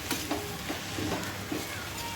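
Fenugreek leaves bhaji being stirred and turned in a hot pan, with a continuous sizzle and soft repeated scraping.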